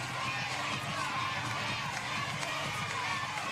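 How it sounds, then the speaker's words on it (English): Bandits fans cheer in a sold-out, standing-room-only crowd at a softball game in Rosemont, Illinois. A dense, steady roar of many voices holds throughout, loud and close. "Here's some Bandits cheers from the crowd"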